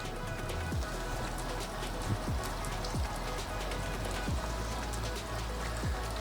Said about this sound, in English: Back to rain again.